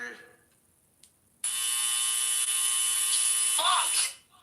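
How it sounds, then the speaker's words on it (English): A loud, steady game show buzzer blares for about two and a half seconds after a brief quiet, then cuts off, with faint voices before and near its end. "And the buzzer."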